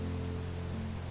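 Steady rain falls continuously for about a second, a soft even wash of drops with a low hum underneath and no voices.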